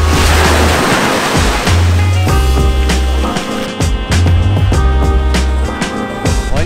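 Sea waves surging on a beach in Thailand, a loud continuous roar of surf close by with heavy wind buffeting the microphone and no talk.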